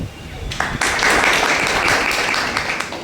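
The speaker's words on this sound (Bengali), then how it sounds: "এর জন্য একটা জোরদার হাততালি চাই।" After a brief moment of talk, a crowd breaks into loud, sustained applause that carries on to the end.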